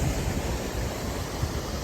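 A waterfall in Colorado, heard from a platform above the falls, gives a steady, dense roar of rushing water that stays unbroken throughout with no voices.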